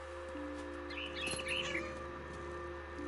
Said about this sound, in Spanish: Pajarito.